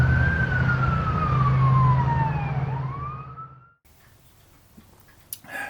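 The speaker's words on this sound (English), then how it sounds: "there'll be a fire truck going down the street" A fire truck siren passing down a street about two blocks away, its wail sweeping down and back up over a low engine rumble, fairly loud, then cutting off abruptly to a quiet background with a faint knock.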